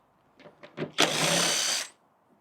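Screws come out of a motorcycle's Advan Black fairing: a few light clicks and taps, then a single second-long whirring burst from a powered driver, close and moderately loud, followed by quiet.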